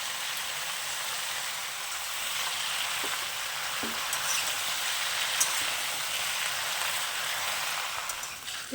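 Bottle gourd greens and chopped stems sizzle in hot oil with other vegetables, a steady dense hiss that holds evenly for the whole stretch, broken only by a few faint clicks of stirring.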